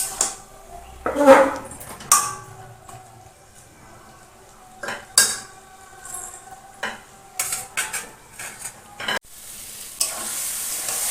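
Taro leaves cook with a fish head in a pan, giving a close, steady sizzle punctuated by repeated scraping and clanking strokes of a spatula stirring the thick mixture.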